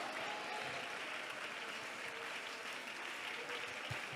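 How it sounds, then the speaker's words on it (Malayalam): A church congregation claps together in steady, dense applause throughout, a sustained wash of hands with no pauses and no talk over it. "കൈയടിച്ച് ഉറക്കെ സ്തോത്രം പറ."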